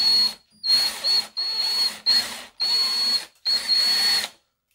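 A power drill drives a DeWalt screw extractor into a stuck screw in five separate whining bursts with short pauses between, close and loud, ending in silence.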